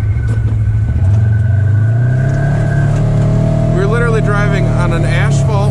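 Engine hum from a four-wheeler or side-by-side driving on an asphalt trail, a close, steady drone that rises slightly in pitch, with someone talking over it.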